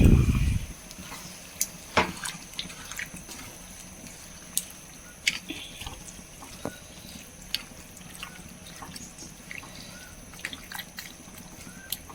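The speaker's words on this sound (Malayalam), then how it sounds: "ചൂടുവെള്ളം ഒഴിച്ച് കൊടുക്കാം ഒരു മുക്കാൽ കപ്പോളം നന്നായി ഇളക്കി കൊടുക്കാം" Hot water is poured into a pan of squid roast in a kitchen, giving a brief loud gush at the start. Scattered soft drips and light clinks of stirring follow over a quiet background.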